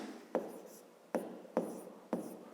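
A pen writes on paper during a fifth-grade maths lesson, making four short, scratchy strokes spaced irregularly, close and fairly quiet, with no talking.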